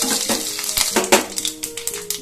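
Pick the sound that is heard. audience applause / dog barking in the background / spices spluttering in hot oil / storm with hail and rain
spices spluttering in hot oil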